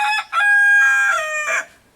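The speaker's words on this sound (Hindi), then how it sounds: "पीछे आपको दिख रहे हैं कड़कनाथ मुर्गे।" A Kadaknath rooster crows loudly and close at a jungle resort in Rajaji National Park, one full cock-a-doodle-doo with a drawn-out middle note, alone with no talking.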